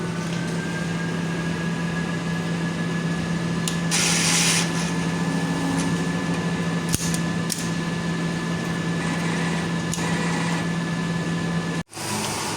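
A Mutoh sublimation printer runs a head-cleaning cycle, giving a steady close mechanical hum with a constant tonal whine, brief bursts of hissing pump noise, and a sharp clunk near the end before the drone resumes.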